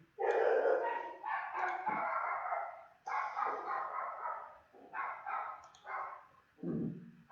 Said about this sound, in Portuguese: Ainda teve o efeito especial do cachorrinho no fundo.